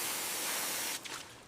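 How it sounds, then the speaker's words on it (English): Water spraying onto a soapy Brahman bull during washing, a steady broad hiss of spray that holds loud and even for about a second before dropping and fading slightly. "Aim the spray higher, near the shoulders."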